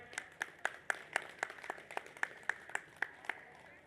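Sparse, evenly spaced handclaps from a small audience at a Telugu meditation gathering, about fourteen sharp claps in a steady rhythm, faint and slightly distant with no talk over them.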